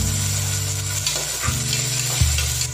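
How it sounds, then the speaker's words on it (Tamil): Tomato sautés with onions in a hot pan, a loud close sizzle under repeated stirring scrapes that come every second or so, no voices. "தக்காளி பார்த்தீங்கன்னா ஒரு நிமிஷம் போல வதங்கிடுச்சு"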